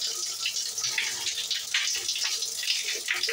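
Shower water runs steadily throughout, a continuous broad hiss of spray with no voices.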